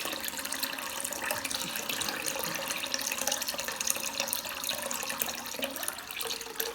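Water runs steadily from a sink mixer tap after a cartridge replacement, a continuous close splashing rush into the basin with no pauses and no talking.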